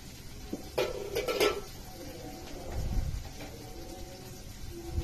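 A metal lid comes off a pot of chirer polao (flattened-rice pulao) cooking on the stove, with a close, sharp clatter and a few clinks, followed by quieter scattered rattles.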